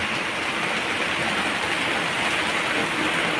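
Steady rain falling, a dense even hiss of drops that holds at a constant moderate level with no voices or breaks.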